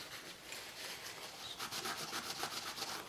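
Wood stain is rubbed onto a small wooden coffin prop with a cloth, giving a steady, close scratchy rubbing with rhythmic strokes that grow a little louder toward the end, with no voices.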